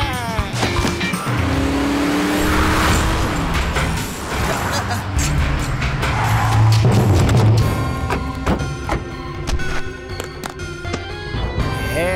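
A cartoon car races at high speed, its loud engine roar and squealing tires mixed with impacts and dramatic music, with brief voices over the continuous motor noise.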